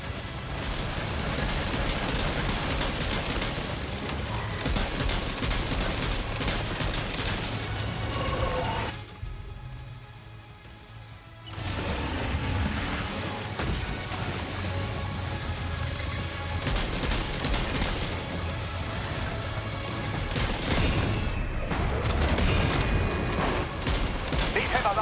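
Gunfire in a streamed video game: dense, sustained bursts of shots with mechanical clatter, dropping into a brief lull midway before resuming just as heavily, with voices mixed into the din.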